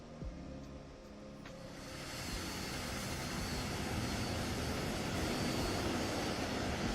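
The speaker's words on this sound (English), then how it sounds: "Oh my god, it's a train. I thought it was a plane. Why is it so loud?" A loud train rolls past in Train Sim World 5, a broad roaring rumble that builds after the first second and holds steady and close for the rest of the stretch, with no talk over it.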